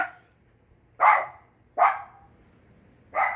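A dog barks four times in clear, spaced single woofs, close by, with quiet pauses between each bark.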